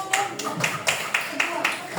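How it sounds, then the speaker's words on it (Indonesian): A class of third-grade pupils claps hands in a classroom, six or seven sharp, evenly spaced claps in a quick rhythm, fairly close, with faint voices underneath. "tepuk tangan dulu"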